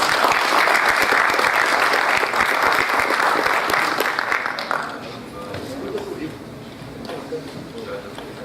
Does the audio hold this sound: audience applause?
yes